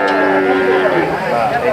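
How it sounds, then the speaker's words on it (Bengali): A cow moos loudly and close by at a rural village cattle market near Dhaka, a single sustained low call over faint background noise. "এখানে বিভিন্ন ধরনের ছোট বড় মাঝারি সব সাইজের গরুই কিন্তু এই হাটে মিলে।"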